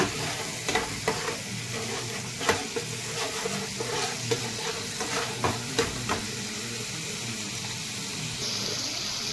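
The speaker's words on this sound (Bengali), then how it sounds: "এবার আমি মশলাটাকে ভালো করে কষিয়ে নেব" Masala spice paste for a Bengali yogurt koi fish dish sizzles steadily in a pan with a little water, while a spatula scrapes and stirs in regular knocks and scrapes, close and continuous, with no talk.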